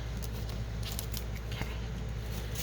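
Scissors snip through cling wrap at close range, a string of quiet crisp cuts over a steady low hum, no talking.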